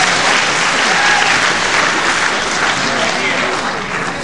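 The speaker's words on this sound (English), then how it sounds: "So the very fair crowd here at the Cliffs Pavilion, West Cliff on Sea, really giving Hassouni applause when he does something very well." Steady, dense applause from a wrestling crowd at the Cliffs Pavilion in Westcliff-on-Sea, loud and sustained throughout, easing slightly near the end.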